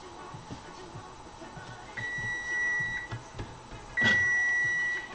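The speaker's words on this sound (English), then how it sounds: "that was my timer for the 10 minutes" A kitchen timer beeps in two sustained high-pitched bursts, the second louder, over quiet room noise and faint clatter.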